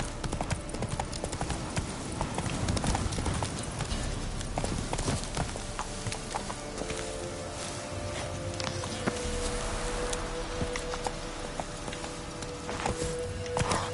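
Roach, a horse in The Witcher 3, gallops in a steady, close clip-clop of hooves that runs throughout at even loudness, with faint game ambience beneath.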